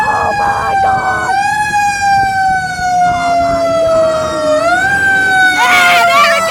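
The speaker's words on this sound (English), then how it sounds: "we got truck 2 on scene with the lights and sirens" A fire truck siren wails loud and close as the truck heads out to a scene, its tone rising and falling with an engine rumble underneath and brief blasts of an air horn near the end.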